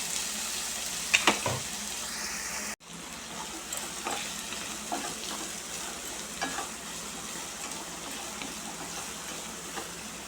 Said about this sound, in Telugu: ఇప్పుడు ఇదే ఆయిల్లో బీరకాయలు వేసి వేసుకుందాం